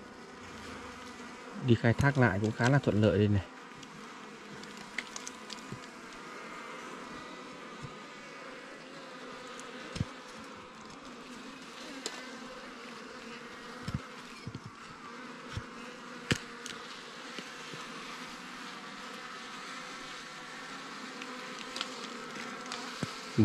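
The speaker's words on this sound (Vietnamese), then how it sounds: "Tổ ong này quân khá là đông nhá." Wild bee colony at its nest in the cold season, a dense, continuous buzzing hum heard close up, with someone talking briefly over it near the start and occasional handling knocks.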